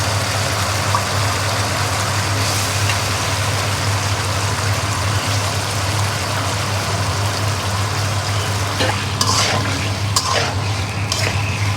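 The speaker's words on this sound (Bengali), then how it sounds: "শোল মাছগুলো এখন কষিয়ে নেওয়া হচ্ছে।" Snakehead fish frying and being stirred in a pan during cooking with bottle gourd, a continuous loud sizzle with a low steady hum underneath and a few scraping stirs near the end.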